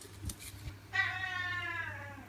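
A cat in a kitchen gives one drawn-out, wavering meow up close after a few faint bumps, the cry holding steady for over a second before trailing off.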